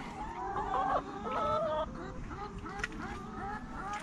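Chickens cluck and squawk in a backyard run, several short bursts close by with rustling and outdoor background noise.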